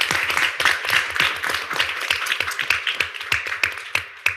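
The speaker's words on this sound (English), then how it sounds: "Let's give them a big round of applause." Clapping at a town council meeting comes from a smaller group, with distinct individual claps in an uneven rhythm that thins toward the end, close and fairly loud.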